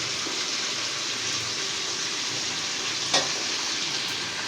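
About 1.5 kg of small potatoes are cooking in a hot pan, frying with a loud continuous sizzle as they are stirred, with one sharp knock partway through and no talking.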